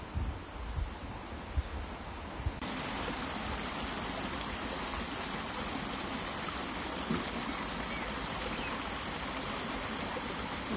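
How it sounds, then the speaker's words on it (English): A stream runs through the wooded Den of Maidencraig on the edge of Aberdeen, giving a steady, unbroken rush of water that grows fuller after a few seconds and carries on alone. "Running water, a stream flowing through the Den of Maidencraig"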